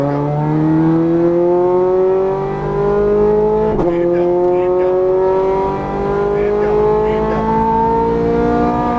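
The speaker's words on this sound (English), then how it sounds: "Start to accelerate now, unwind the wheel, full power." A Ferrari 430 Scuderia engine accelerates hard at full power on a track, its loud rising howl climbing through gears with brief shift breaks, close and dominant throughout.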